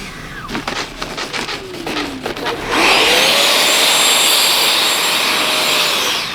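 A 90mm Eurofighter RC model jet engine whines loud and close as it comes in to land, with a steady rising roar that holds for several seconds and a pitch that shifts as it passes.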